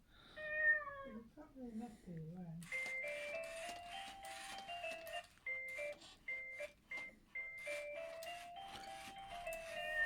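An Aldi Power Kitty Jr remote-control robot toy kitten gives a falling electronic meow, followed by a run of bright synthetic beeps and chirpy tones, fairly close and moderately loud.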